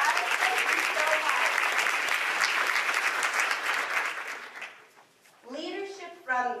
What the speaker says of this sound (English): Can we give Ira a tremendous round of applause?